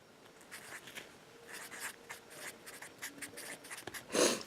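Marker writing on a board, a string of quiet scratchy strokes in an irregular rhythm, ending with a louder squeak or tap.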